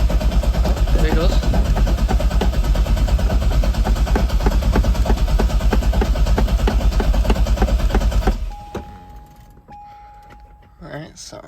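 A Chevrolet Corvette Z06 starter cranks the engine over steadily and loudly for about eight seconds with a rapid churning rhythm, then cuts off, leaving quiet clicks and faint handling noises.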